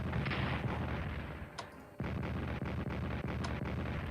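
Artillery fire booms in the WWII strategy game Strategic Command during the Battle of Wuhan: dense, loud rumbling blasts with a few sharp separate reports near the middle and a rolling barrage after.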